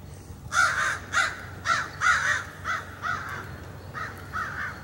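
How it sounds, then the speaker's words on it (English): Crows cawing in a steady series of about nine harsh calls, fairly close and clear, with a low hum underneath. "I like that sound of the crows."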